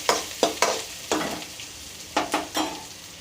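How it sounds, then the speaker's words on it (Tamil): Amaranth greens (arai keerai) sautéing in a pan, a soft steady sizzle broken by several sharp scraping stirs of a spatula in uneven bursts, close and fairly quiet, with no voices. "வதக்கிட்டு நம்ம கீரையை போட்டுக்கலாம்."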